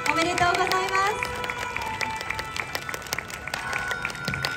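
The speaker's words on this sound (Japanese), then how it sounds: "それでは大きな拍手をお願いいたします" An outdoor crowd at a wedding during the Iwatsuki festival claps for the couple, scattered sharp hand claps and light cheering, with a sustained tonal sound fading early on and voices mingling in the background.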